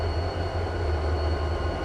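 Canadian Pacific locomotive horns sounding in the RO-Scale Sandbox video game, a steady, loud sustained horn tone holding unbroken throughout without talk.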